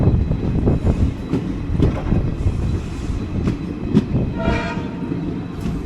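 Balurghat-Siliguri Intercity Express running near Gangarampur, with steady loud rumble and rhythmic clattering of wheels on track, sharp periodic clacks, and a brief higher metallic tone or horn-like whine near the end.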